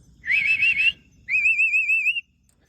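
A talking mynah bird whistles two clear, wavering tonal phrases, each under a second long and separated by a short pause, close and fairly loud over faint background noise.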